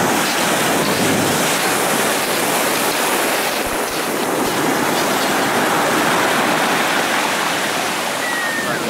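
Sea surf rolls onto the shore at Sochi, a loud, continuous broadband roar of breaking water with no clear gaps between waves.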